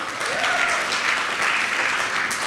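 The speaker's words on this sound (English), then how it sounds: "This crowd really loves the applause" Audience applause at a charity giving celebration, a dense, steady wash of many hands clapping together at moderate loudness with no voices over it.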